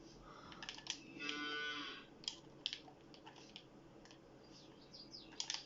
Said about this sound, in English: Wake up, cow.